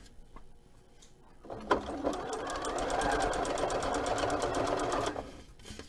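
A sewing machine stitches a hoodie pocket onto a T-shirt, running in one steady, continuous burst of rapid, even stitching for several seconds before stopping, close and clear.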